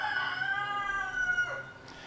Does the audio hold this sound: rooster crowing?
yes